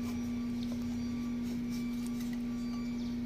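A freshly cleaned blower motor runs steadily on a test, giving off a constant electric hum with a strong fixed tone and faint whirring over a low, even background.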